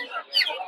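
A tiger chicken at a poultry market in Narsingdi gives a single short, close cluck amid market murmur.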